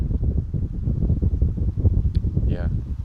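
Strong north wind gusts steadily across an open lake on a canoe trip in the Kawartha Highlands, a loud continuous rumble buffeting the microphone, with a faint brief voice near the end.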